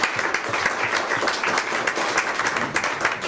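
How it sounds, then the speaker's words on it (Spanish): A church congregation applauds during a Spanish-language sermon, a steady, dense wash of clapping from many hands that holds evenly throughout with no voices rising above it. "¿Por qué no le das un aplauso al Señor?"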